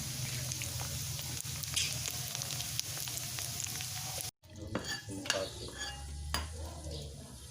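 Oil sizzles steadily in a pan while sautéing for dinuguan, then after a short cut, spatula stirring and scraping clatters over the frying.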